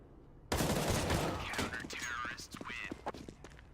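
An M4A4 rifle fires in the video game Counter-Strike during a competitive match, a burst of rapid close shots followed by scattered game sounds, under an excited commentator's voice.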